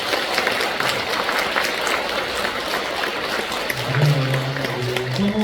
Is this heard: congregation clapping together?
yes